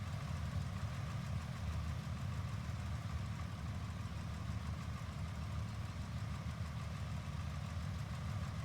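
Aircraft engine idling in Microsoft Flight Simulator 2024, a steady low droning hum with a faint rumble that holds even and unbroken throughout.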